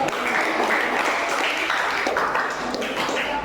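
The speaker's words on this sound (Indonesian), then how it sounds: "tepuk tangan dulu buat kelompok satu" Classroom applause for the first student group after their presentation on Indonesian salt: a continuous, fairly soft wash of many hands clapping, steady from start to finish.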